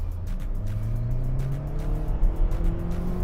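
A 2016 Suzuki Swift 1.2 RX with a six-speed manual accelerates hard in first gear, its engine revving steadily and loudly up the range, heard close and without talk.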